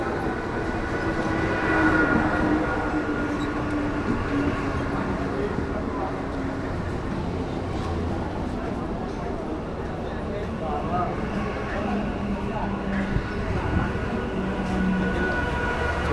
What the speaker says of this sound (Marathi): ट्रेन आलेली आहे. बोरिवली स्लो आहे.